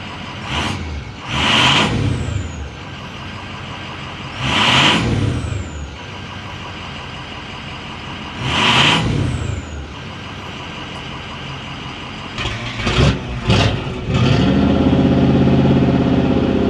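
A Buick Electra V8 engine restarts and runs, roaring up in several loud, separate revving bursts before settling into a steady, close rumble at the end, with no talk.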